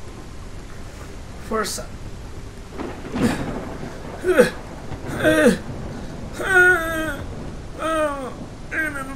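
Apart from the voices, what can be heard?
rain and thunder in a PSVR 2 virtual reality game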